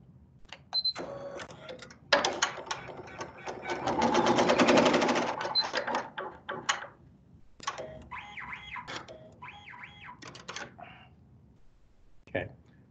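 Computerized sewing machine stitching a satin stitch test during a tension-setting lesson, with several bursts of rapid mechanical whirring and clatter, a longer loud run in the middle, and someone talking between the runs.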